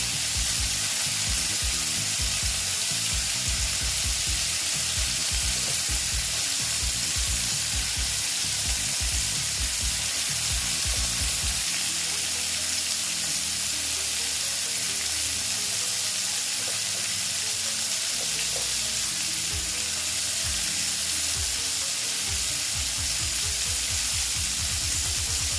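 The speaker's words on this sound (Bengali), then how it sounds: "এইবার আমি উচ্ছেগুলোকে সব ভেজে নেব" Pieces of bitter gourd fry in hot oil for a pickle-style dish. A steady, close hiss and crackle runs throughout, broken by occasional louder stirring scrapes and bursts of spatter.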